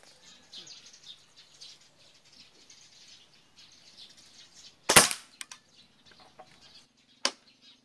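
A Taurus PCP air rifle, converted, fires a Meteor pellet outdoors: one sharp, loud crack with a brief ringing tail. A few smaller clicks follow, then a second fainter snap, over quiet bird chirps.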